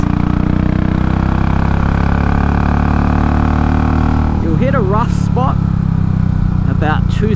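A Royal Enfield Classic 500 single-cylinder motorcycle engine drones loudly and continuously during a hard break-in ride, with wind rush and someone talking over it in the second half.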